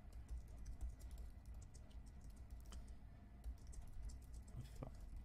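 Steady typing on a computer keyboard while building a SaaS landing page, with quick irregular keystrokes running through the whole stretch at moderate, close range.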